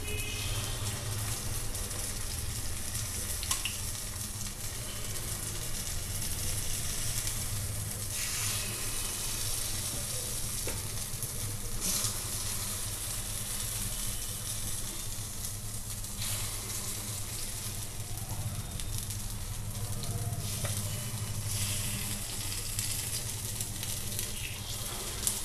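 Appam batter is poured into oiled molds of a pan and sizzles steadily in the oil, a continuous close frying hiss that holds for the whole stretch with faint stirring and clatter, and no voices.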